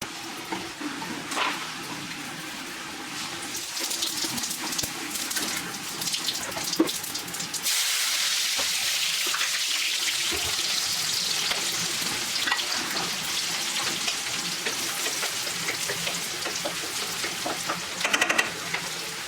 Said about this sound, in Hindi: ऑयल डालने के बाद मैंने हरी मिर्च डाली है और गार्लिक जो मैंने फ़ाइन चॉप किया था वो डाल दिया मैंने।